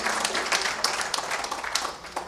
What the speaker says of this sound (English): How about a round of applause for the horses and all the connections racing this Saturday.